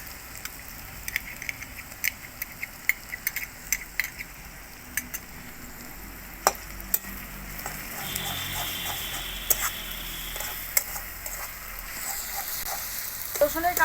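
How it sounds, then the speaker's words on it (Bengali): Garlic paste hits onions already browned in hot oil in a pan for Bengali mutton kosha. A steady, close sizzle carries sharp crackling pops throughout. "দিয়ে দিচ্ছি রসুন পেস্ট।"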